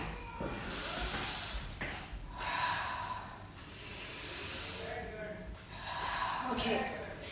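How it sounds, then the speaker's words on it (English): Rhythmic inhaling and exhaling during a children's breathing exercise: close, loud breaths with a hissing, snorting edge, repeated in several cycles across the clip. "Inhale and exhale."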